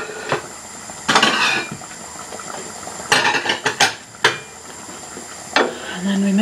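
Plates and cutlery clink and clatter as pasta with sauce is served, with several sharp ceramic knocks and scrapes spaced irregularly over a quiet kitchen background.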